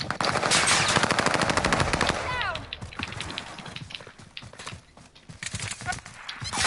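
Rapid bursts of automatic gunfire crack loudly in a Warzone battle royale match. A steady stream of shots comes first, then scattered, more distant shots, with players talking over the action.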